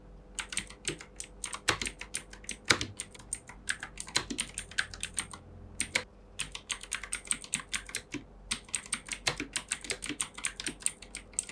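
Rapid clacky keystrokes on a Fantech Atom 104s mechanical keyboard, close and crisp, in quick bursts with brief pauses between runs of typing and an occasional heavier key press.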